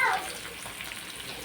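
Chicken frying in a pan in a home kitchen, a brief soft sizzle that stays steady and close for a moment.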